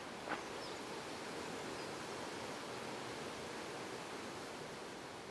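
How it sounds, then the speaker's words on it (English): The River Clydach runs low after a long dry spell near Neath Abbey in Wales, giving a faint, steady, distant wash of flowing water with a soft rustle near the start and no talking. "the River Clydach flows down, and not far downstream it joins the River Neath"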